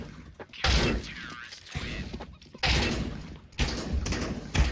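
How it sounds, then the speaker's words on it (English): Several loud shotgun blasts in Counter-Strike: Global Offensive during a Shattered Web mission, sharp broadband bursts spaced about a second apart with voices talking between them. "Whoa, shotguns are crazy."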